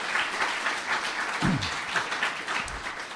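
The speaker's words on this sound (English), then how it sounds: "can we have a round of applause for that person" An audience applauds in honour of an organ donor, a dense moderate wash of clapping with a brief low voice-like murmur partway through.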